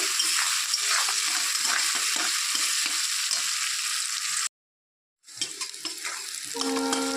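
Onions, garlic and chilies fry in oil with a loud, steady sizzling hiss, broken by a brief silent gap before the sizzling resumes.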